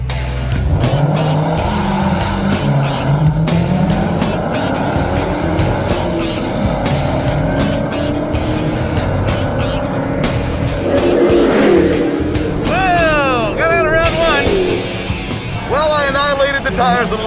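Dodge Challenger Hellcats race in a celebrity shootout, engines revving hard and close with repeated sharp tire squeals and skids, while voices talk over the noise throughout.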